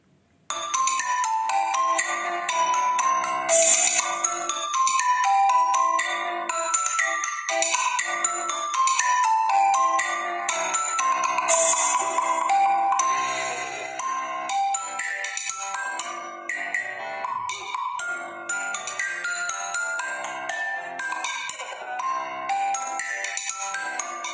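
A mobile phone ringtone plays loudly and steadily on its own for over twenty seconds, a repeating bright melodic tune with no talking over it.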